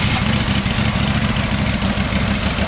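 A tractor engine with its choke on runs at a steady idle, a loud, even low rumble with a continuous mechanical throb and no talk.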